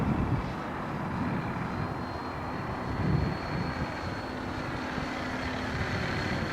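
A Freewing P51D Mustang RC plane flies with an engine sound module, giving a steady droning simulated piston-engine roar that rises slightly midway, with wind noise outdoors.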